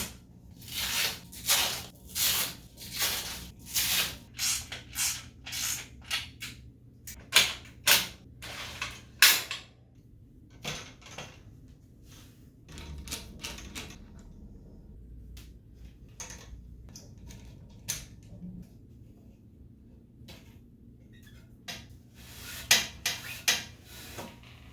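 A fabric seat piece is being worked off a Linear Limo recumbent bike, giving a long run of sharp clicks, rustles and tearing scrapes that come in close, uneven bursts with quieter gaps between them.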